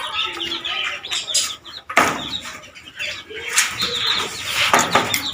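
Pigeons in a home loft with scattered chicks, giving busy chirps, coos and wing flaps up close, with a sharp clatter partway through and steady rustling throughout.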